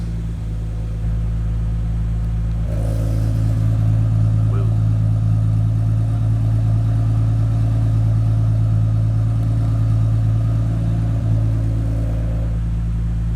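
A Nissan R32 Skyline with an electronic exhaust cutout open idles loud and close: a deep, steady engine drone with a low rumble holding throughout, one brief exclamation from a man over it.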